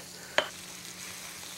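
Eggplant, onions and other vegetables sizzle on a grill with a steady, faint broadband hiss, broken near the start by one short, sharp clack of a utensil.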